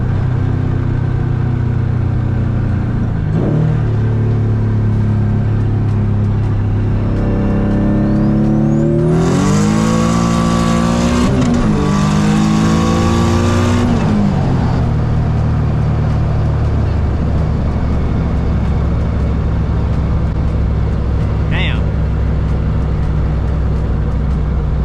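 A stock-block swapped Nissan S15 revs hard and close through third gear, the engine note climbing steeply before a brief shift break into fourth, then settling into a steady cruising drone.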